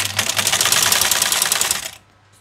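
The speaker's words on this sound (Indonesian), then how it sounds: "Jadi kita akan mencoba jahit yang agak jauh." A black sewing machine being adjusted while stitching fabric runs in a rapid, even mechanical rattle for about two seconds, close and loud, then stops abruptly, leaving a faint hum.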